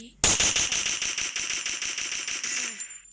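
Rapid automatic gunfire from the Free Fire battle-royale game, a steady rattling burst of evenly spaced shots lasting nearly three seconds, loud and close, ending with a short ringing tail.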